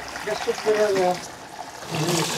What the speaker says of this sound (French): C'est plusieurs petits ruisseaux.